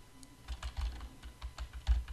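Keys on a computer keyboard are pressed during Photoshop work, a quick run of roughly a dozen soft, close clicks at an uneven rhythm, with no talking.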